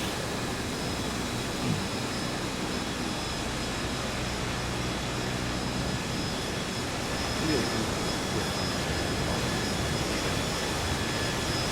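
Airliner landing in Microsoft Flight Simulator, a steady broadband jet engine roar with a faint high whine holding at a constant level throughout, with no voices.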